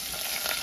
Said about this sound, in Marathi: कांदो टाकलं ह्याच्यासाठी लवकर, कारण ते तेल नाही तर उडत राहिलं असं फटफटा.